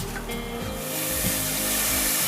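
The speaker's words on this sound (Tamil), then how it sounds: "இப்போ வந்து புளி தண்ணி விட்டுக்கிறோம்." Tamarind water poured into frying masala for a mathi (sardine) fish curry, a soft splash turning into a rising, steady hissing sizzle in the pan, close and continuous.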